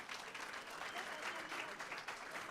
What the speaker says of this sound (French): Donc, merci de les applaudir.